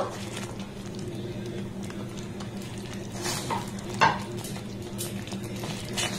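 Pointed gourd pieces going into a spice masala and being sautéed for a vegetarian dish, with a steady low sizzle and occasional scrapes and one sharp clink under a soft, continuous kitchen background.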